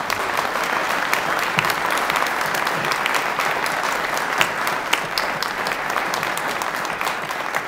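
Sustained applause from an indoor audience honoring a Phoenix Rescue Mission chaplain, a steady dense clapping that holds evenly throughout with no voices breaking through.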